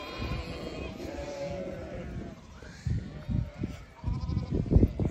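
Sheep and lambs bleat at a farm pond in dry countryside, several fairly faint calls over outdoor ambience, with some low rustling and movement toward the end.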